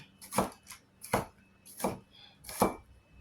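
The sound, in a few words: chopping onion for pasta stew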